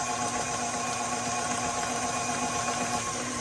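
An electric mixer fitted with a beater paddle churns corn cake batter, a loud, steady motorized whir with a mechanical rattle, close and unbroken, with no talk.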